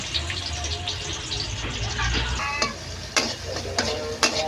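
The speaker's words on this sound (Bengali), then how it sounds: "তেল গরম হয়ে গেছে এখন কেটে রাখা পেঁয়াজ দিয়ে দেব" Chopped onions fry in hot oil in a wok while cooking banana flower, giving a steady close sizzle with a few sharp stirring scrapes near the end.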